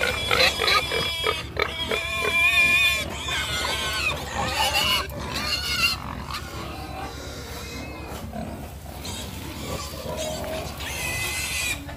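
Piglets on a pig farm squeal and grunt continuously in a loud, dense chorus close by, with shrill overlapping cries throughout.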